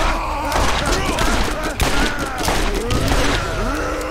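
A close-range weapon in the video game Borderlands fires loud, rapid bursts of shots with heavy thuds, one volley running into the next.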